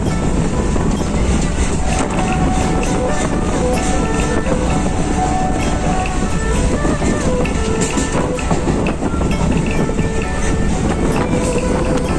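Steady, loud rumble of a passenger train carriage riding through countryside past mustard fields, with a dense continuous low roar and faint rattling throughout, no clear voices.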